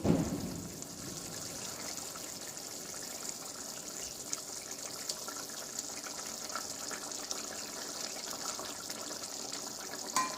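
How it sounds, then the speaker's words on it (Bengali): Fried pangas fish drops into boiling gravy with a brief splash at the start, followed by a steady, close bubbling and simmering that continues throughout. "এখন এর মধ্যে আমি ভেজে রাখা মাছগুলো দিয়ে দেব।"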